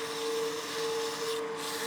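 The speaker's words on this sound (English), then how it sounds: "I'll use my palm to sand this exterior curve here" Sandpaper pressed by a palm against the exterior curve of a wooden utility box spinning on a lathe, a continuous close scratchy hiss over a steady motor hum, no voices.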